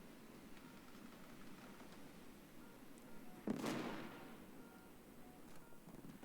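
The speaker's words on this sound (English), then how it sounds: "let's see what we can get out of a full drop with these bombs." Bombs from a full drop exploding in a jet combat video game, a single muffled blast swelling over a steady engine drone, heard from a distance.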